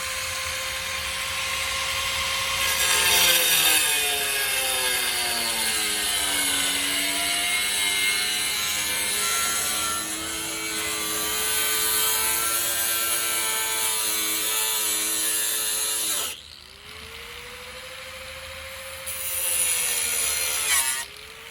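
A power saw cuts through the metal body of a Ford F-150 pickup in a long, loud, steady whine with shifting pitch, dropping briefly near the end before resuming.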